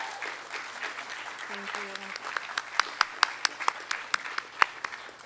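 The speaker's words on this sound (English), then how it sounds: "So one more time, a round of applause to our 8th grade teachers." Scattered hand clapping from a small group at a middle school graduation ceremony, starting softly and building into sharp, uneven claps, with a brief spoken voice early on.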